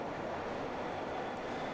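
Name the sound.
Berlin U-Bahn train passing through Nollendorfplatz station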